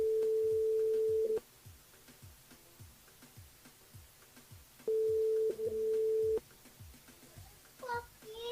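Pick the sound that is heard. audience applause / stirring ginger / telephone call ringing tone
telephone call ringing tone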